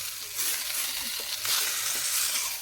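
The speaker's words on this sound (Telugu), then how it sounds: "ఇప్పుడు ఈ చికెన్ అంతా ఆయిల్లో ఫ్రై అవుతుంది." Skinless chicken frying in hot oil, a close, steady crackling sizzle with slight swells in intensity, heard alone with no talk.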